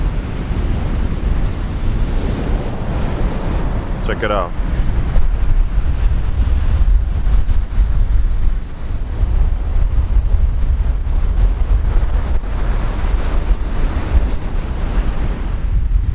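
Greenish-blue ocean surf washing steadily onto the shore under strong wind buffeting the microphone, a continuous loud roar; a voice speaks briefly.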